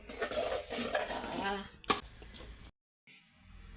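Prawns go into a pan with masala and are stir-fried, a spoon scraping and clattering against the metal with faint sizzling, while a person talks over it before a short silence.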